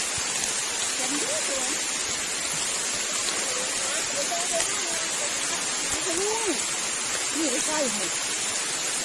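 Steady broadband hiss of rain falling in a forest at night into dawn, constant and fairly loud throughout, with a few birds chirping faintly in the background.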